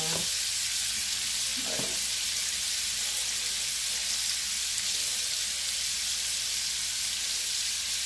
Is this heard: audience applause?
no